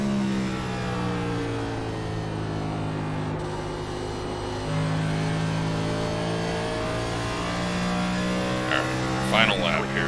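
Race car engine in a racing game at Phoenix Raceway, revving and accelerating steadily and loudly with gear-shift shifts in pitch, with someone talking over it.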